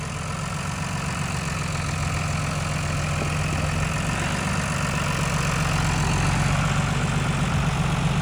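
A John Deere 3350 tractor engine runs steadily nearby, a loud low rumbling idle with constant mechanical drone that holds for the whole stretch without speech.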